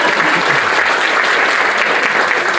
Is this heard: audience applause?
yes